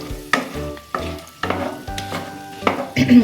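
Koi fish cooks in mustard oil over medium flame for a traditional Bengali dish, with a low steady sizzle under a series of spaced, distinct stirring knocks and scrapes against the pan, close by and with no speech.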